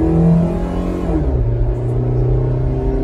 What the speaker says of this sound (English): we're just gonna go full throttle